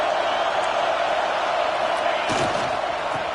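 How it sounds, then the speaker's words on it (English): Dense, steady roar of a packed stadium crowd in the College Football 26 video game, a continuous wall of cheering noise with a brief louder burst near the end. "Wow, listen to this crowd noise. This stadium is vibrating."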